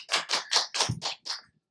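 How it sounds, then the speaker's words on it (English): Six sharp, evenly spaced hand claps at a Toastmasters speech, close and crisp, with a short gap before the last one. "Clap, clap, clap, clap, clap, clap, clap, clap,"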